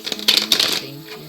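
Tarot cards are riffled and shuffled in a quick flurry of close, crisp flicks that settle into a softer rustle.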